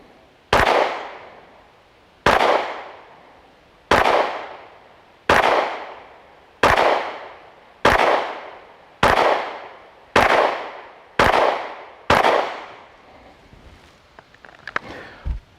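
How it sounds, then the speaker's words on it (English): Ten pistol shots fired at a shooting range, sharp loud cracks evenly spaced about one and a half seconds apart, each with a short decaying echo, followed by faint clatter. "10 shots."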